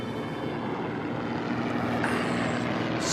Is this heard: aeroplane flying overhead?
yes